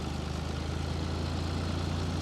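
A tractor engine idles with a steady, low, throbbing hum, constant and unbroken throughout.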